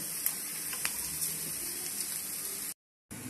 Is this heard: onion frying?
yes